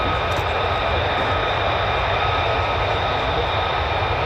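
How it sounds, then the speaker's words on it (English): A C-17 military transport plane runs its engines at RAF Lakenheath, heard as a steady, broad distant jet roar that holds constant without a break. "We've got a little cheeky C-17 over there as well."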